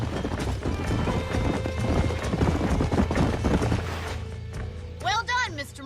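Rhythmic clip-clop of several horses' hooves trotting in the Western video game Red Dead Redemption on Xbox 360, steady and fairly close, fading out before a horse whinnies near the end.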